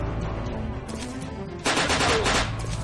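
Shotgun blasts in a first-person survival shooter, a dense burst of loud gunfire erupting midway after a stretch of ambient game noise, with rapid repeated shots close up.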